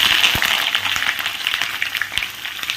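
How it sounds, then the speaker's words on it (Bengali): Chopped vegetables fry in a pan with a dried red chilli, giving a bright, steady sizzling hiss dotted with small pops and crackles, close and continuous. "সেই সবজিগুলোকে একটু ভেজে নেব।"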